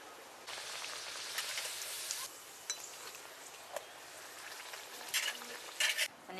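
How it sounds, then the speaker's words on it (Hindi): Puris deep-fry in hot oil, a steady close hiss and crackle with bursts of stronger bubbling and a few soft clinks, with no voices. "सारा पूड़ी को ऐसे तल लेंगे"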